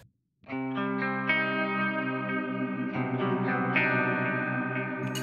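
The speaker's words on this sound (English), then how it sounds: "when I use the pedal with the depth, just a bit of depth, you can create a sort of chorus" An electric guitar on a Bigsby vibrato pedal set for a chorus effect rings out sustained notes, with a shimmering, slightly detuned doubled tone and a few new notes picked over the ringing sound, close and steady, with no voices.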